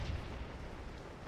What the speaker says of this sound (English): It's a good thing we got the cannons up, that's for sure.